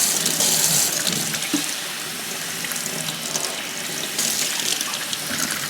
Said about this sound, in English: I make sure I get all these aerial roots a bit of a rinse before they go into the water with the fertilizer.